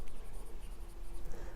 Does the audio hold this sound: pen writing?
yes